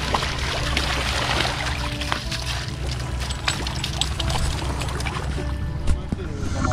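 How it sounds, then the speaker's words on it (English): Water pours and splashes steadily from a tap at a lakeside campsite, filling a container in a continuous rushing stream with faint background activity. "still filling up with water"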